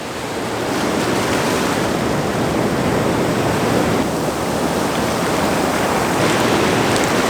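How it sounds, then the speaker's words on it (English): Ocean surf washing onto a shore at brightening dawn, a steady, loud broadband roar of breaking waves and rushing water that swells slightly without pause, with no voices. "It's difficult to predict how far up each wave is going to come."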